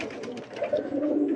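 Pigeons coo softly in a loft, a low murmuring burble repeating through the moment with no voices over it.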